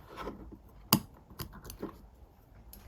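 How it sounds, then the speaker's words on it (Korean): Scissors snip crochet yarn while a left-handed crocheter works a motif phone pouch, giving one sharp close cut followed by a few softer snips and rustles. "넣은 후에는 잘라주세요."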